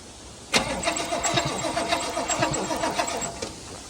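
An old V8 Toyota Hilux, left sitting for a decade, cranks without firing: a loud, close starter-motor churn with a steady pulsing rhythm that runs for about three seconds and then stops.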